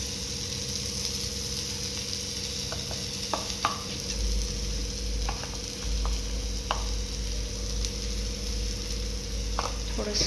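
Salt and turmeric stirred into hot oil in a pan, a soft sizzle with scattered scrapes and taps of a spoon over a steady low hum, a louder rumble joining partway through.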